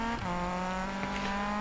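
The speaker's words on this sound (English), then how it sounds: "It just wants to keep revving." A car engine revs in a racing video game, a Lambo held against the rev limit with a steady, high, droning harmonic tone that stays loud and continuous and has no talk over it.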